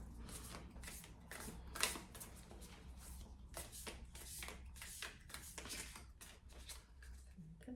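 Tarot cards being shuffled by hand, a steady run of soft riffling flutters and taps close by, repeating through the whole stretch at moderate level with no talking.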